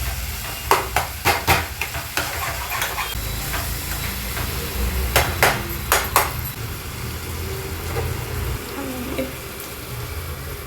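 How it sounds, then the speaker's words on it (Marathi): Masala sizzles steadily in hot oil in a pan for paneer bhurji, a continuous close frying hiss broken by sharp clinks and scrapes of a spoon against the pan. "तेल सुटेपर्यंत आहे ना चांगलं भाजायचं"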